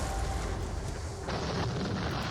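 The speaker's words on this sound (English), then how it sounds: "Could use my artillery to soften them up." Booming artillery fire in a Napoleonic-era war video game set at the Battle of Eylau, a dense low rumble of cannon blasts that rolls on continuously, with one sharper report midway.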